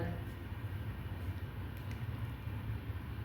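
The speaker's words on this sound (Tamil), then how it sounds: "இந்த ட்ரெயின் எங்கேருந்து வருதுன்னு பார்த்தீங்கன்னா மதுரை மதுரை டு சென்னை தான் அந்த ட்ரெயின் வந்துட்டுருக்கு" A Madurai to Chennai passenger train gives a steady, close rumble and rattle of wheels and carriage for the whole stretch.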